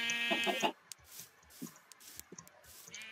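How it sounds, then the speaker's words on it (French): Sheep in a video game bleat in a short nasal burst at the start, followed by faint soft clicks and small scattered sounds at low volume. "Des moutons."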